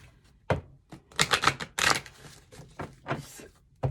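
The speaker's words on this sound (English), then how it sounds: "I'm going to shuffle the cards" A deck of tarot cards being shuffled close up: quiet irregular riffling bursts and soft snaps in uneven clusters, with no talk.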